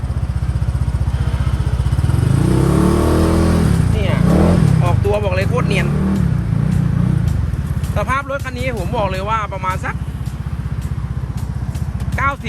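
A Honda PCX150 scooter engine runs steadily close by throughout while someone talks over it, the idle holding an even putter.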